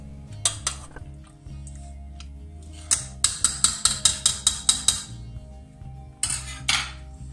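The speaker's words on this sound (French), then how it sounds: "À l'aide d'un pilon, vous aidez les fruits à se réduire en purée." A pestle mashes cooking garden fruits in a metal pot, giving a quick run of about a dozen sharp, evenly spaced knocks on the pot, with scattered scraping clinks before and after over a low hum.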